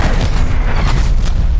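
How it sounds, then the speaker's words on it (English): Artillery strike explosion in Call of Duty: Cold War hardcore team deathmatch, a loud, sustained low rumbling boom with crackling debris filling the whole moment, with no talk over it. "Artillery targeting active."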